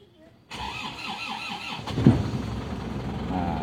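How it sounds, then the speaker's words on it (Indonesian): A car engine cranks on the starter and catches, then idles steadily with a short squeal, while someone talks over it. "Langsung saja kita coba starter."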